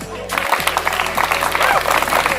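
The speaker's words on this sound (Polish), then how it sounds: "Jeszcze raz, kochani, poproszę o wielkie brawa." Warm applause from guests at a company's 20th anniversary picnic, clapping swelling after a brief opening and continuing steadily as a dense, lively patter with faint background music.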